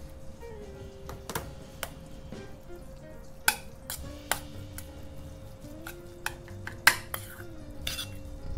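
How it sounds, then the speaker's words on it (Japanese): Grilled salmon being mixed with mayonnaise in a bowl: scattered clinks and scrapes of a utensil against the dish at an irregular pace over a quiet background hum. "今から、マヨネーズと和えて調味していきます。"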